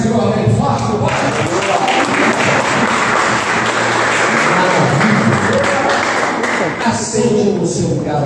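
A church congregation at a family worship service claps loudly and continuously in praise, the dense applause close and full, with voices and some thumping mixed in beneath it.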